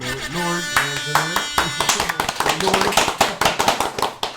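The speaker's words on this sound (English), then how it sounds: "Round of applause for us" Podcast hosts give themselves a round of applause, a quick burst of sharp, close claps that follows talking and laughter, the claps growing denser and more uneven toward the end.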